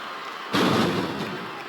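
A large arena crowd in a wrestling video game swells suddenly into a loud, sustained roar and holds it steadily to the end.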